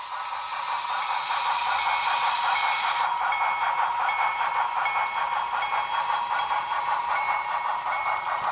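A model railroad train runs along a club's layout with a continuous, even clatter and rattle of small wheels on track, steady and moderately close the whole time.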